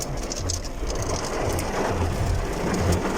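Heavy rain pours steadily outside a pet shop in Dammam, Saudi Arabia, a dense continuous hiss and patter on surfaces with low rumbling beneath, unbroken for the whole stretch and without voices.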